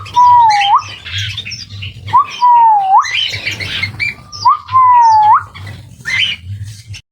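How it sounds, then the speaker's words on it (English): Small caged parrots such as lovebirds at a resort give repeated loud, rising whistled squawks, three or four distinct calls spaced a second or two apart, with chattering and chirps from other birds around them. "the small breeds of parrots"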